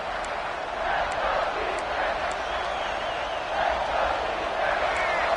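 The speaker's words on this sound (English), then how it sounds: "This crowd is trying to inspire this defense to make a big red zone stop." A large football stadium crowd roars steadily at a Miami game ahead of a red zone defensive stand, a dense wall of noise with faint whistles cutting through.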